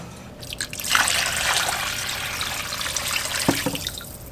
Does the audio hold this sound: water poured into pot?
yes